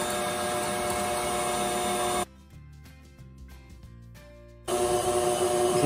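A stand mixer whips egg whites into Italian meringue as hot sugar syrup is poured in, a loud steady whirring motor that drops to a quieter, lower hum for a couple of seconds before resuming at full speed.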